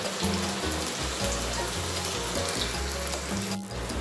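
Ingredients for a seer fish curry sauté in a clay pot, giving a continuous, close frying sizzle over a low steady hum, with no talking.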